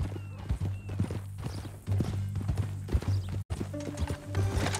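Horse hooves clip-clop in steady rhythm from Red Dead Redemption II, close and fairly quiet, with a faint whinny and low background hum.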